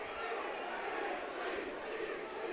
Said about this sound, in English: you can hear the Dundee crowd probably in the back of what they think of the decision